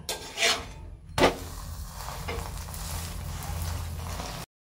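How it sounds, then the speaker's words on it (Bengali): Egg-coated flatbread for a Kolkata-style egg roll frying in oil, with a soft continuous sizzle and a couple of short scraping rasps of a spatula against the pan near the start. "আবার একটু তেলের দরকার লাগছে বলে সাইড সাইড করে একটু তেল দিয়ে দিচ্ছি, যাতে ভালো করে পরোটা ভাজা হয়।"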